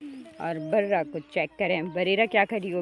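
Sheep and goats bleat repeatedly in short wavering calls close by on a farm, mixed in with a person talking over them throughout.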